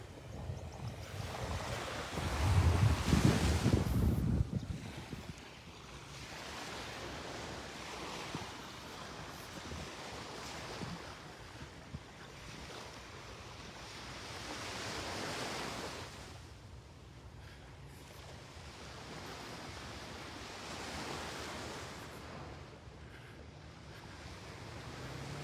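Surf and gusting wind at Delnor-Wiggins Pass State Park beach, with heavy wind buffeting at the start, then steady rolling waves washing in and out at a moderate distance, no voices.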